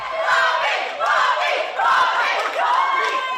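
A crowd at a Fremantle AFLW match roars and cheers loudly in rising waves for a debut announcement, voices shouting together with no pauses.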